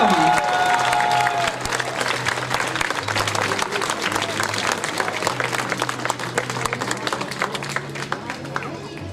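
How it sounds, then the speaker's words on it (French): An audience at a costume parade on the podium in Chanaz applauds a masked Venetian-style costume as it is presented, with loud, dense clapping and a few sharper claps standing out, plus a low steady hum underneath. "On peut l'applaudir bien fort."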